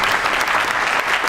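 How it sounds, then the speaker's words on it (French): Applause at a regional award ceremony for France's best craftsmen titles, honoring a winner; a dense, steady wash of clapping from a hall audience, continuous and fairly loud throughout the short burst. "Ça mérite des applaudissements aussi."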